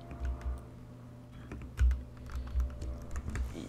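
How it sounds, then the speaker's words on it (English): A computer keyboard on a desk is typed on in quick, irregular bursts of soft clicks, faint and close against a quiet room hum. "so sorry if you can hear like my keyboard sounds."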